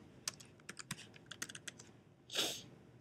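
Keys tapped on a computer keyboard in a quick, uneven burst of close clicks, ending with a louder, slightly longer clack.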